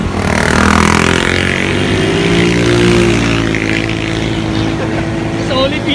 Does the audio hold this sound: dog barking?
no